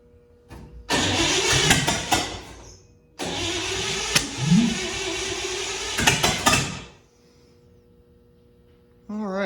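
A 1955 Chevy engine cranks and catches in loud close bursts, revving and running for a few seconds before cutting out, then cranking again after a short quiet gap.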